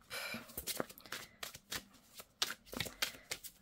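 Tarot cards being shuffled by hand, a quick run of papery riffles and slaps coming close and fairly soft, with brief pauses between bursts.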